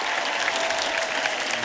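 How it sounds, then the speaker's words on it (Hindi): Steady, dense clapping from a studio audience at a Hindi comedy talk show, loud and sustained throughout with no voices on top. "एक बार हमारे मेहमानों के लिए जोरदार तालियां।"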